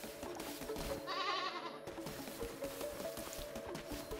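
Sheep bleating in a video game: one short, wavering bleat that stands out for under a second over a steady bed of game background sound.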